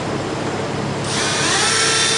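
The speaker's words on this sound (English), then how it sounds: "I'm just going to drill some new holes in the radiator mount" Power drill boring new holes in a radiator mount on a vehicle project, a close, loud continuous whir that climbs to a higher, steadier pitch as the bit bites in, heard alone over about two seconds.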